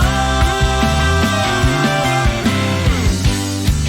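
Distorted electric guitar plays a chordal riff with sustained, gritty tone and sliding notes, loud and close, no voices.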